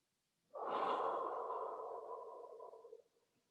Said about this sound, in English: breathing deeply through the nose and out from the mouth